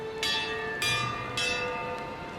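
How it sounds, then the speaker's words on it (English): A bell in the Pillars of Eternity II: Deadfire video game rings three times with a ringing metallic tone that sustains between strikes, loud and alone. "Who's rung the bell and why?"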